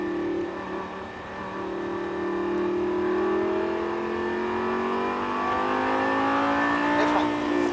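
A Lamborghini LP560-4 accelerates on a track, its engine note climbing steadily through a long rising pull, with a brief sharp burst near the end; low voices talk faintly over it.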